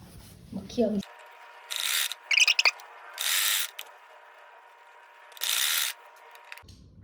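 A sewing machine stitches piping onto a kurti in several short, close bursts of whirring needle motion separated by pauses, with a voice talking briefly at the start and end.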